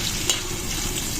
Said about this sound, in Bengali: তো এই যে আমার ভাজা প্রায় শেষ, আর বেশি ভাজবো না